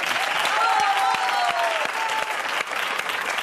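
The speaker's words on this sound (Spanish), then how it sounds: "un aplauso" An audience applauds a guest named Rubén on a live show, with lively crowd clapping and cheering and voices calling out over it.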